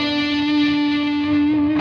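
Electric guitar through a Maxon RTD800 pedal with thick fuzz distortion holding a sustained, buzzing note, loud and close, with a slight shift near the end.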